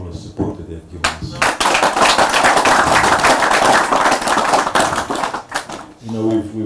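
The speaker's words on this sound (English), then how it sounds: "give a huge round of applause to the ladies for all the support that they've given us" Audience applause at a Fijian Movember campaign closing event: a loud, dense burst of clapping that swells for several seconds and then fades, with a voice speaking before and after.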